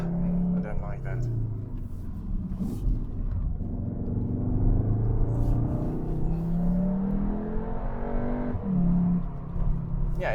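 A Cupra Leon's engine revs and accelerates on the Klausen Pass, its rumble rising in pitch, with a person talking over it throughout.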